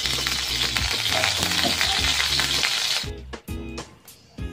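Cooking oil sizzles and hisses loudly in a pan as snail adobo, a Filipino pulutan dish, gets started. The dense frying roar runs steadily, then breaks into uneven sputters and pops.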